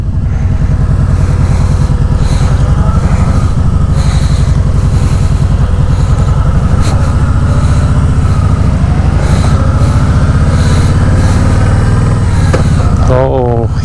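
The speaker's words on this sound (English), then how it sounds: "Heading out on my test ride of the Voyager." A 2019 Kawasaki Voyager motorcycle on a test ride, its engine droning loud and steady close to the microphone, with a brief rise in pitch near the end as it shifts or accelerates.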